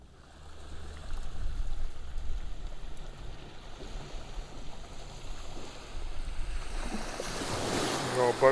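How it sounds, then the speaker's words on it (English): Waves from a passing boat's wake wash and lap along the bank of the River Alde, a steady close swash of water with wind, building slightly toward the end. "Got a boat just come in, launched a load of waves at us"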